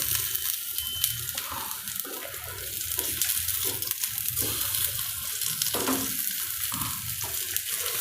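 Methi bites, small pieces of fenugreek-leaf dough, fry in hot oil with a steady, loud crackling sizzle that runs the whole time, and a spoon or utensil stirs now and then.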